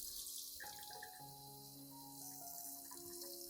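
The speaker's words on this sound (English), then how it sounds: "The next step is to gently rinse the plant under clean running water." Clean tap water runs steadily over a plant's roots as they are rinsed, a constant hiss with faint tonal ringing from the stream, alone and without talk.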